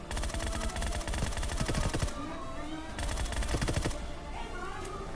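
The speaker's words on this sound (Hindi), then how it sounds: "और मैं यहाँ पर रैंडम फायर ले रहा था।" Bursts of automatic gunfire from the BGMI video game, rapid clattering volleys separated by short pauses, loud and close with faint game ambience between them.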